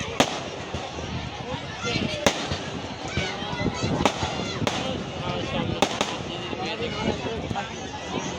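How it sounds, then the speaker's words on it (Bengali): Firecrackers burst in repeated sharp, loud cracks at a Ram Puja celebration by a riverside, set against a constant wash of crowd noise and people talking. "বম ফাটানো হলো আমাদের এইখানে"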